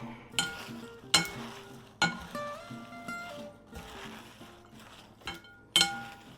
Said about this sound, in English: the only thing left to do is give it a good toss